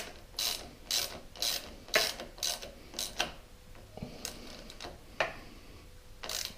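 A nut under a Yamaha MT-09 SP motorcycle is tightened during an accessory fitting, giving a series of close, sharp metallic clicks in uneven bursts with short pauses between them.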